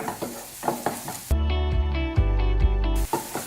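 Chilli paste hits frying paneer in a pan with a loud, steady sizzle and scraping stir strokes, broken midway by a short stretch of tonal music before the frying hiss returns.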